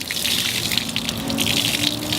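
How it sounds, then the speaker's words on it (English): Dirty water gushes and splashes steadily as a car wash mitt is wrung out over a bucket, a loud continuous pouring rush with no talking. "So I take my wash mitt and I go ahead and wring it out."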